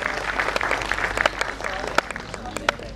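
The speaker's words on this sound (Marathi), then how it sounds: "आशा ब्राह्मणे मॅडमसाठी जरा जोरदार टाळ्या वाजूयात." An audience applauds a teacher at a teachers' award ceremony. The clapping is moderate and roomy, with several sharp individual claps standing out, and a faint voice sits under it.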